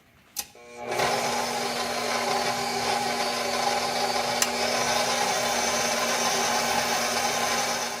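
A stand mixer kneads bread dough for peanut butter tangzhong milk bread, starting with a click and then running as a steady, even motor whir with a faint rubbing drone, continuous and close.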